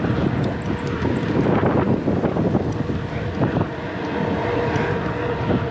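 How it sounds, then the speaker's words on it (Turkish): Strong wind buffets the microphone with a continuous roaring rush and gusty surges, loud and close throughout. "Muhteşem rüzgar"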